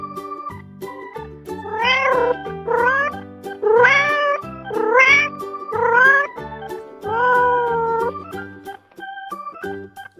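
A domestic cat meows about six times in loud, drawn-out, rising-and-falling calls spaced across the stretch, set against a soft, steady musical backing with no talking.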